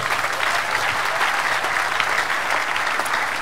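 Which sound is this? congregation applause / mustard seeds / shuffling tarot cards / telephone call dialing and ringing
congregation applause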